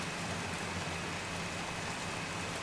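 Steady rain from the video game Heavy Rain, a dense, even hiss of falling water with no breaks, moderately loud and alone throughout.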